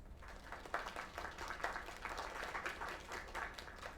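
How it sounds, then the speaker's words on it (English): A crowd applauds at a live singing performance, steady clapping with a few louder bursts, continuous and moderately distant throughout. "Another round of applause."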